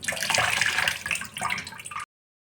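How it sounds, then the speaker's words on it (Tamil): Flattened rice (aval) being washed and drained in water, a continuous close sloshing and splashing of water for about two seconds before cutting off abruptly, no talking. "கழுவின உடனேயே நம்ம இதை அப்படியே தண்ணியெல்லாம் வடிச்சிட்டு ஒரு இதில் நல்லா தண்ணியே இல்லாத அளவுக்கு நம்ம வடிச்சிடணும்."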